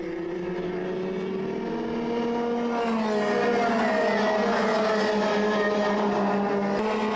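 Racing karts at the Salbris circuit in a championship final, a pack of engines whining and revving together, rising in pitch and loudness midway as they pass, with no talk.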